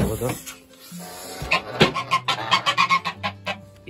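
Chickens clucking nearby in a quick series of short, rhythmic calls, loud and close.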